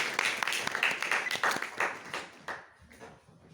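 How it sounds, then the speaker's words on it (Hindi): An audience at a Lucknow festival stage event claps to welcome a chief guest, a fairly faint patter of hand claps that thins out toward the end. "एक बार जोरदार तालियों से स्वागत करिए हमारे मुख्य अतिथि माननीय सुरेश चंद्र तिवारी जी का।"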